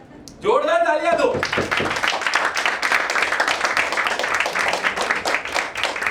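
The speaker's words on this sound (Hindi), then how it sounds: "जोरदार तालियां दो." Audience in a recruitment seminar hall bursts into loud, sustained clapping right after a brief spoken cheer from a man, the dense applause continuing evenly to the end.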